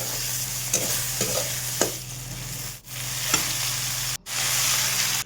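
Softened brinjal with salt, turmeric and fenugreek leaves is stir-fried in a pan. A loud, close sizzle runs with rhythmic spatula scrapes and is cut off abruptly twice.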